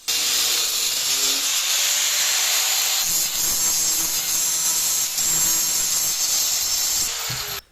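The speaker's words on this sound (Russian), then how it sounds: "Дальше берем отрезок металлической шпильки и разрезаем ее на две части." A metal threaded rod is cut in two with a power tool, giving a loud, harsh, continuous grinding hiss that runs unbroken for several seconds before stopping abruptly.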